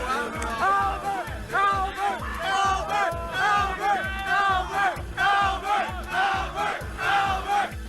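A Super Smash Bros Melee tournament crowd erupts into a frenzy after an upset win by a Falco player over Hungrybox: a loud, sustained roar of shouting and whooping voices that surges in repeated waves throughout.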